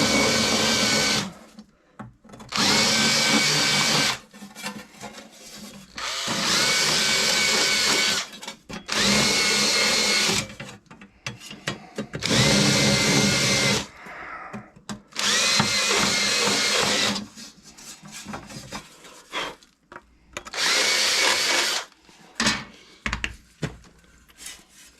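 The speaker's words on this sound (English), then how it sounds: "we have to clean those burrs off. So we have a tapered reamer." Power drill spinning a tapered reamer to clean burrs off drilled holes in a cold air intake valve for an indoor fireplace, repeated loud close whining bursts of several seconds each separated by short pauses.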